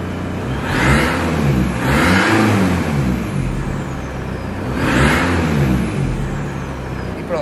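A van engine with its exhaust valve open revs hard three times up close, each rise loud and raspy over a rumbling idle between pulls.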